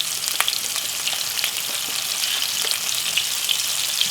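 Chopped white onion fries in a pan with a steady, bright sizzle. Small crackles and pops rise above the hiss throughout, close and fairly loud.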